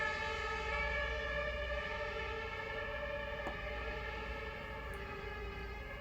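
A steady wailing fire station siren drones on for the whole stretch, loud and sustained, with layered harmonic tones and no talking.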